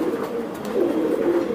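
A female racing pigeon coos nearby, a soft, throaty warble that rises and falls in a continuous low murmur, heard alone.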